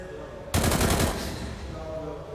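A loud, close burst of automatic rifle fire in a CS:GO match between NAVI and Vitality on Mirage at the IEM Rio Major 2022, a rapid rattle of shots lasting under a second that trails off into the match's background noise.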